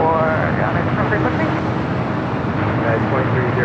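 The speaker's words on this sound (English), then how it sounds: "KLM flight 602 heading back to Amsterdam in the 787-10 Dreamliner. Looking like it's the south side at takeoff." A KLM Boeing 787-10 Dreamliner taking off from the south side at LAX, a steady, broad engine roar that stays loud and constant throughout, with voices talking over it.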